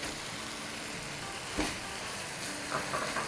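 Grated boiled potato being stirred in a hot pan for a taco filling, a soft continuous sizzle with a couple of brief scraping knocks from the spoon, no talking.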